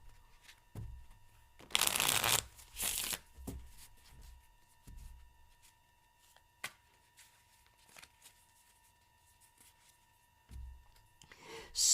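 A deck of tarot cards shuffled for a reading in two loud, close bursts of riffling, separated by a short pause, with soft handling rustles and clicks around them in an otherwise quiet room.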